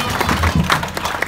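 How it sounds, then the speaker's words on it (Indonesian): Audience applause during the signing at a Catholic church wedding blessing at St. Teresa of Avila: a brief, steady wash of many hands clapping together, filling the room at an even level. "Ya, tepuk tangan semuanya"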